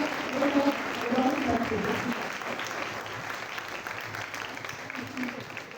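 A church congregation at Easter Sunday Mass applauds mothers on Mother's Day, steady, moderately distant clapping running beneath a speaking voice throughout.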